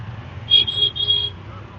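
Heavy city traffic rumbles around an auto rickshaw in a low steady drone, with a high horn-like tone sounding twice in the middle.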